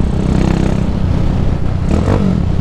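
A 150 Sport motorcycle with a 280cc engine being broken in rumbles loudly and continuously nearby, with a brief rise in revs near the end, and no one speaking.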